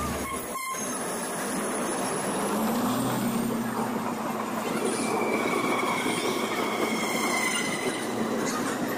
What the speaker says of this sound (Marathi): फायनली इतका वेट केल्यानंतर आमची तिरुपतीची ट्रेन आलेली आहे